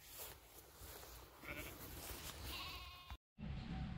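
Sheep bleating close by in a farm setting, several wavering calls in a row, fairly faint, with a brief dropout near the end.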